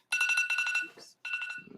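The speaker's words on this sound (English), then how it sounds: "That was my alarm" Phone alarm beeping in rapid repeated electronic pulses, loud and close, pausing briefly before resuming.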